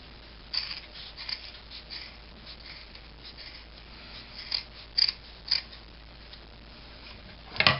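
Scissors snip through a burlap sack cut just below the string, a handful of short crisp clicks spaced irregularly over a quiet background, close and fairly soft, with no talking.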